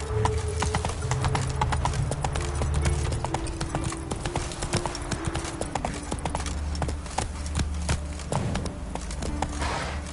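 Roach the horse gallops in The Witcher 3, a steady fast clip-clop of hooves running continuously over a low rumbling background, with a brief whinny-like tone and no talking.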